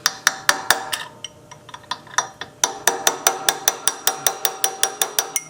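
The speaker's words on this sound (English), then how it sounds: "With the magic hammer," Close, sharp metallic hammer blows on a chisel while working a generator part during a Sears generator repair, a steady series of about twenty evenly spaced strikes, with a brief irregular pause before the rhythm picks up faster.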